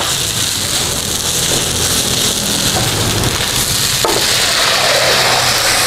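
Blended fish meat sizzling in a small amount of hot oil, a loud steady crackling hiss that holds throughout, with no voices.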